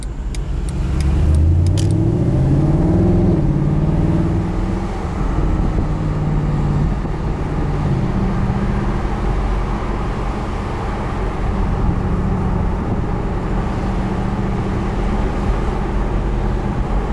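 A 2012 Mercedes-Benz SLS AMG Roadster accelerates hard through rising gears, engine pitch climbing and shifting, then settles into a loud steady cruising drone with road noise.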